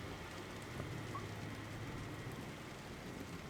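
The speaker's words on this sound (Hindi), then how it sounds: "थोड़ा थोड़ा बारिश होने लगा था" Steady rain falls in a continuous dense hiss across the whole stretch, with a low rumble of distant thunder underneath, as a backdrop sound effect for a spoken story.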